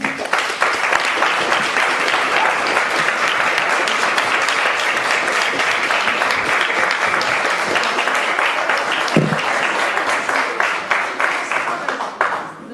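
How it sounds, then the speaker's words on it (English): Audience applause fills a hostile hall after a speech on Israel and the Palestinians, steady dense clapping throughout, loud and sustained, thinning slightly at the very end. "So some claps there."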